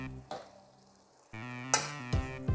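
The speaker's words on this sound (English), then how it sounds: "So now our water is boiling, so we're going to put our meat." Sizzling and splashing as pork spare ribs drop into a pot of boiling water, with a few clinks of utensils against the pan, close and fairly loud.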